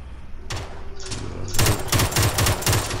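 Gunfire in the video game PUBG, a few single shots followed by a fast string of loud, close rounds within about three seconds.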